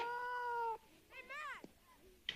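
A cat meows several times up close, with a long drawn-out cry, a wavering call and a short final mew, alone in a quiet room.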